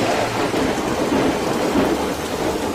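A heavy thunderstorm roars with dense, steady rain and deep rumbling thunder, loud and close, a continuous wash of downpour with low booming underneath and no voices.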